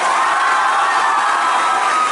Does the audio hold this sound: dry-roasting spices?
no